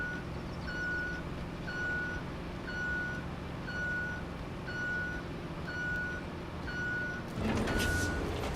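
A semi-truck in the Roadcraft road-building game backs up, its reversing alarm beeping steadily about once per second over a low engine drone, then a loud hiss of air bursts in at the end.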